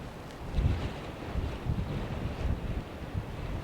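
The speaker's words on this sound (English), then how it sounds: "It's quite windy" Wind buffets an outdoor microphone while fishing from a boat off Norway, a steady low rumbling roar with irregular gusty thumps throughout, no voices.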